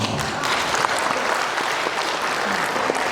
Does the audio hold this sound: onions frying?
no